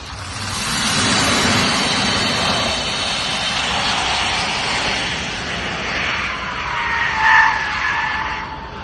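A Tesla Model 3 Performance drifting, with loud sustained tyre squeal and skidding over a humming electric drivetrain, rising and shifting pitch as the car slides, close and continuous without talk.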